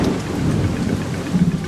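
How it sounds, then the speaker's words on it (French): Heavy rain pours steadily in an animated cartoon, with low rumbles of thunder rolling beneath the dense, constant hiss; no one speaks. "Il pleut abondamment."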